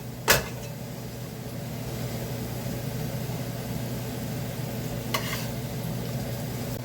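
Potatoes and sausage fry in a pan with a continuous, even sizzle and low steady hum, broken by two brief clatters of utensil against the pan.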